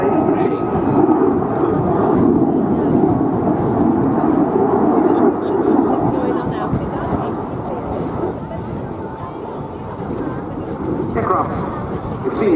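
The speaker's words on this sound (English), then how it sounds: "such an unusual jet aircraft" A French Air Force Alpha Jet flies an aerobatic display at Scampton, its steady, loud jet roar swelling and easing as it passes, with a voice commentating over the engine noise throughout.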